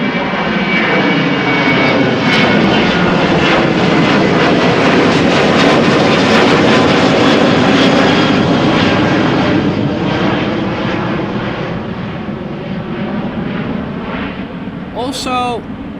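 A Boeing 737-800 jet departs Amsterdam Schiphol for Lisbon with a loud, sustained engine roar that swells and then slowly eases, a broad rushing thrust tone dominating throughout, with a brief squeaky noise near the end.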